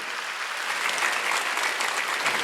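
A church congregation claps together in a dense, sustained burst of applause, a steady roar of many hands filling the room with no pauses.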